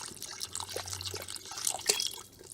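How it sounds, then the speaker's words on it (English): Beef broth poured into a pressure cooker pot already holding thyme, bay leaves, onions and garlic, a steady close liquid splash with faint dripping, no talking. "now I'm going to be adding a little bit more beef broth"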